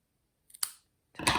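Two quick snips of scissors in a quiet room, the second longer and louder, like blades slicing through paper.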